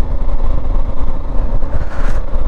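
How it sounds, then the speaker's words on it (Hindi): A KTM 390 Adventure motorcycle climbs the road toward Khardung La in the Ladakh cold, its engine a loud, steady mid-pitched drone mixed with heavy wind rumble and no talking. "अपने KTM 390 एडवेंचर, अपना पिनाका पूरी ताकत के साथ आगे बढ़ रहा है।"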